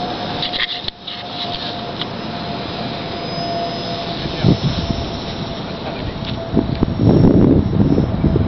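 A scratch-built RC airplane made of foamcore poster board flies outdoors on a windy day, its motor giving a continuous whine with wind buffeting that swells toward the end.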